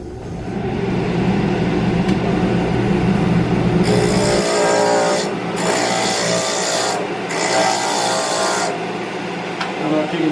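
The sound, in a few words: sanding drum sanding cherry wood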